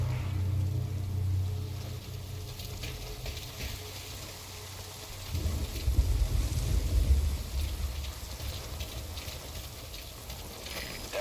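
Steady rain pours down in the Metal Gear Solid V: Ground Zeroes video game, a continuous hiss with low rumbling beneath that swells louder in the second half, with no talk.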